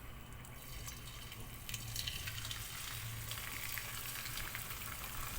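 Ukoy fritters frying in cooking oil, a steady close crackling sizzle that grows a little louder partway through, with no voices over it.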